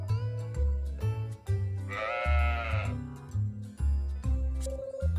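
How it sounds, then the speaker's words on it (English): A sheep in the farming game Story of Seasons: Pioneers of Olive Town lets out a single wavering bleat of about a second, set against bouncy background game music. "A sheep?"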